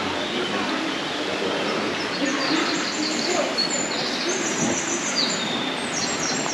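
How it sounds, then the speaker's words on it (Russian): Birds call and chirp in a wooded gorge along the road to a waterfall near Lazarevskoye, Sochi, in July, with repeated high calls over a steady rushing background of wind or water. "Послушать птиц, поэтому я чуть-чуть примолкну."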